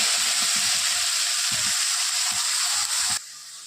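Ground cumin, onion, tomato and garlic paste sautéing in a pan make a steady, loud sizzling hiss with faint scraping stirs beneath, the frying dropping off sharply near the end.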